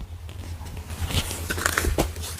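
Crisp raw lettuce, a firm autumn-sown overwintered variety, is bitten into up close, giving a few sharp, crunchy snaps over about two seconds with no talking.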